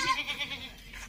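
A Sirohi goat on a breeding farm gives one close, wavering bleat lasting about a second, heard alone.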